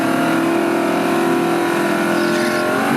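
Drag race cars at a street-car drag strip roaring hard at launch and accelerating down the track, a loud continuous engine howl with the pitch climbing as they pull away.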